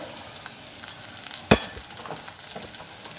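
Coriander and fennel seeds with ground whole spices are stirred in a pan over a low flame while making gunda pickle. A soft, steady rustling sizzle runs throughout, broken by one sharp clink of the spoon about halfway through. No one speaks.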